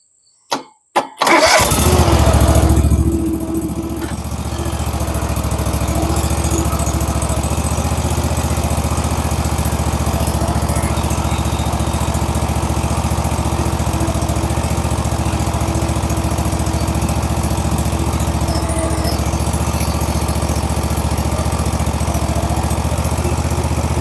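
Petrol lawn mower engine pulled into life after a couple of sharp start attempts, then running steadily at a loud, constant drone close by for the rest of the time.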